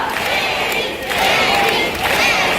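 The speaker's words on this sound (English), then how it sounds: "clap your hands and shout his name" At a bird park show, a crowd claps and chants a scarlet macaw's name, loud and continuous, with cheering voices rising in waves.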